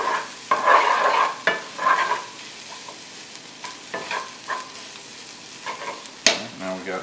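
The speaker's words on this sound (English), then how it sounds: "That flour to get toasted in with all the onions and the fat that's in that margarine." Flour toasts with onions in melted margarine in a pan for a vegan gravy. A utensil stirs and scrapes in repeated bursts over a continuous close sizzle, and no one speaks.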